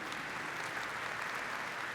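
Conference audience applauding sponsors, a soft, blurred, continuous wash of clapping from a large crowd, heard at a distance and steady for the whole short stretch.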